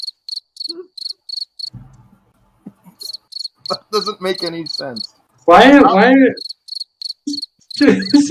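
Cricket chirps from a tabletop fantasy game session's backdrop repeat in short regular pulses, stopping and resuming, while people talk and laugh over them at a lively table.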